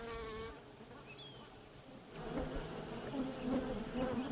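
Asian bees buzz in a harsh mountain habitat, with a faint drone at first, then a denser swarm of overlapping buzzing that swells and pulses close by.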